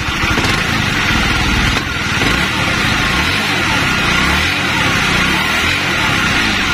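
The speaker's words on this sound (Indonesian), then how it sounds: "Coba kita tarik gas." A Honda CBR150 motorcycle engine runs loudly close by, the throttle opened so the pitch swells and drops in uneven surges; no talking.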